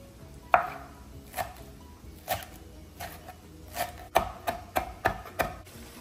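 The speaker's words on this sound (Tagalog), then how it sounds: "Para naman sa ating salsa, maglalagay ako ng kalahati ng sibuyas. At maghihiwa din ako ng cilantro" Knife chopping half an onion and cilantro for salsa on a board: a string of sharp, irregular cuts that grow quicker and closer together toward the end, with no talking.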